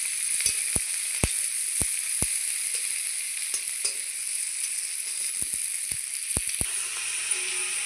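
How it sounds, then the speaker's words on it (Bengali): Chopped onion and green chili fry with potatoes in a pan under a continuous bright sizzle, with a scattering of sharp ticks and taps from a spatula at irregular intervals. "পেঁয়াজ কুচি আর কাঁচা লঙ্কা নিয়েছি, চিড়ে দিয়ে দেবো। একসঙ্গে আলুর সঙ্গে ভেজে দেবো।"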